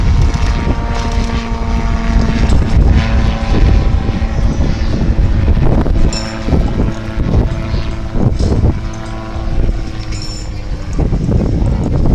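A Calidus autogyro flying an air show display at the Midlands Air Festival, its propeller engine droning steadily and fairly loud with a rising and falling tone as it passes, plus some wind noise.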